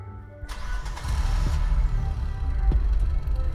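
A car engine in the video game The Convenience Store starts and roars as the car drifts and turns, a loud, steady mid-pitched engine drone that rises and holds.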